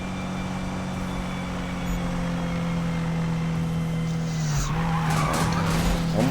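A car drifts through a corner in the Need for Speed 2015 racing game, a sustained engine drone under a long tire squeal that rises and wavers, loud and continuous with no speech.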